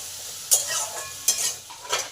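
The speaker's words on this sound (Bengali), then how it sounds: "নুন আর হলুদটা আলুতে ভালো করে মিশিয়ে দিলাম" A spoon scrapes and stirs potatoes with salt and turmeric in a sizzling frying pan, three distinct stirring strokes cutting through a soft steady fry.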